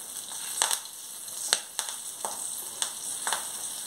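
Curry leaves, green chillies and asafoetida sizzle in hot oil as a South Indian tempering for mango rasam, a steady close frying hiss broken by a few sharp spatters and stirring clicks.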